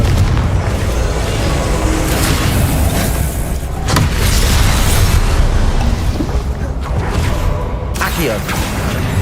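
A Confringo fire spell exploding in Hogwarts Legacy, with loud booming blasts over dense continuous combat noise throughout.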